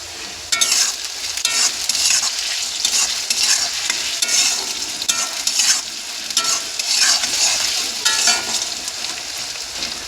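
Potato pieces fry in oil in a wok, loud continuous sizzling with repeated scraping stirs coming in regular waves, close and without talk.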